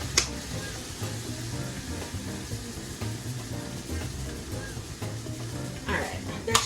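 Homemade chili ingredients sizzle steadily in a hot pan with occasional stirring scrapes and clinks, and a voice speaks intermittently over it.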